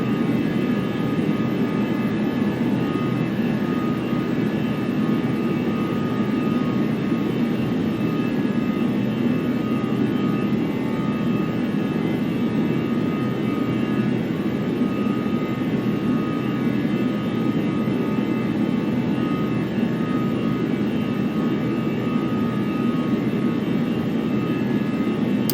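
Airliner climbing out after takeoff in the FlightGear flight simulator, a steady loud jet engine roar that holds constant throughout with no speech.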